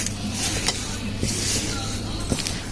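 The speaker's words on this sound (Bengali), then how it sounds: "এখন মা ভালো করে একদম সুন্দরভাবে সবকিছু মিক্স করে নিবে" A sweet mixture with cardamom powder and nuts being stirred in a pan, giving a steady scraping, sizzling hiss with a few soft clinks of the utensil against the pot.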